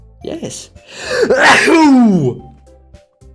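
A sneeze in a video game, a rising throaty wind-up breaking into one loud, drawn-out burst close to the listener, with a short spoken word just before it.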